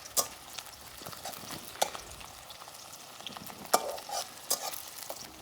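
Pork intestine and liver fry with onion in a pan, a steady soft sizzle with scattered sharp pops and scraping stirs, close by and without talk.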